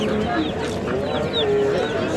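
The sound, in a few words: roosters crowing and clucking at a poultry market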